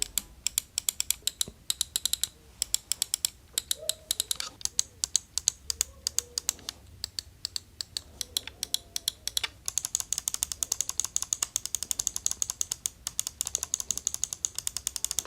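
Rapid, crisp clicking of Dareu Ultra 07 gaming mouse buttons repeats nonstop, close and fairly loud, with brief bursts and a few short pauses.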